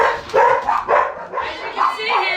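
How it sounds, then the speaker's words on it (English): Several dogs bark and yip in quick, overlapping bursts close by, mixed with a bird screaming, loud and busy throughout. "all the dogs are barking"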